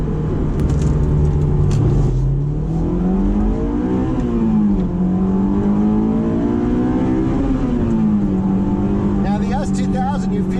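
A Honda S2000 roadster's engine drones and revs loudly while driving, pitch rising and falling through the upper rev range toward its 8,000 RPM redline, with steady road and wind roar throughout.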